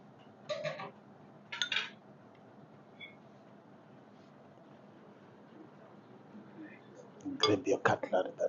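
Dishes and cutlery clink at a self-serve breakfast buffet in a guest lodge: two short bursts of clattering near the start, then a quick run of sharper clinks at the end, with quiet room noise between.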